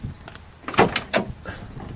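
The steel door of a 1970 Chevrolet Chevelle SS convertible being opened, a couple of brief close mechanical clunks from the handle and latch in a quiet setting.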